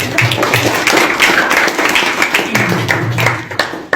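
Audience applause at a youth religious study gathering, a few seconds of dense, continuous clapping from many hands, fairly close and loud.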